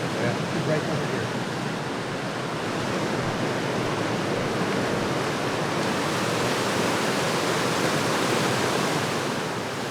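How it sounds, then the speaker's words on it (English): River water rushes under a low-railed bridge on Japan's Kumano Kodo trail, a dense, steady roar of flowing water that fills the whole stretch at an even loudness, with no voices. "This water is flowing today."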